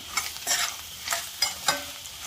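A spicy taro root fry being stirred in hot oil, with several scraping stirs over a bright, steady sizzle of frying, close and fairly loud, with no voices.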